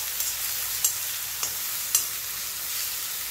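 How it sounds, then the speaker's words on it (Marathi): Curry leaves with green and red chilies frying in a pan while being stirred, a soft continuous sizzle broken by a few sharp clicks and scrapes of the spoon against the pan. "आता हे व्यवस्थित असं हलवून घ्यायचं आहे।"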